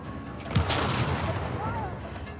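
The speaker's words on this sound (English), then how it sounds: "They're going to be drawn to that explosion" Deep booming explosion in a co-op zombie survival video game, a single heavy blast followed by rumbling debris and scattered crackles, loud and close with game ambience around it.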